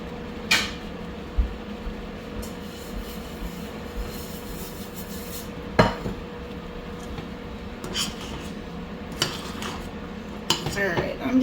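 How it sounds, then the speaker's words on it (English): Metal utensil scrapes and knocks against a hot skillet as food is stirred, a few sharp clinks standing out over a steady low sizzle and hum. "Give it a really good stir, make sure it's not sticking."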